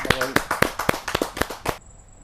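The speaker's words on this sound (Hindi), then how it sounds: "जोरदार तालियों के साथ हम उनका साथ" An audience at a Hindi poetry gathering claps in a short run of about a dozen sharp, fairly close claps that stop abruptly, leaving a faint tone behind.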